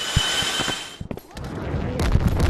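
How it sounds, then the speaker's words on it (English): Rapid booms and gunfire-like blasts erupt in quick, irregular bursts in the video game Animal Company, with sharp thumps followed by a denser rumbling barrage. "why is there so many explosions?"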